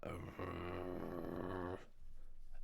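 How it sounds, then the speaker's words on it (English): A furry four-legged animal with bared teeth gives a low, snarling growl, a sustained rough rumble lasting over a second, then breaking off into quieter breathing noise. "then you hear a low growl"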